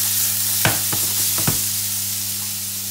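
Celery frying in oil in a venison casserole pot, giving a steady loud sizzle throughout with a few sharp clatters of stirring near the start and middle.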